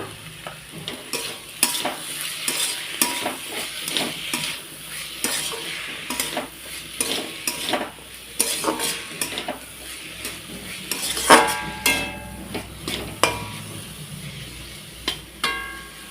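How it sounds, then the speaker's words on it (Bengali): Cabbage with turmeric powder stirred and fried in a pan on a gas stove: steady sizzling broken by repeated sharp scrapes and clinks of a utensil against the pan, close and busy throughout. "এখন এটা আস্তে আস্তে গ্যাসে সুন্দর লাল করে ভেজে নেব"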